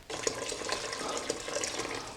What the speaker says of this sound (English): So here I'm going to put in, starting with 1 quart of water.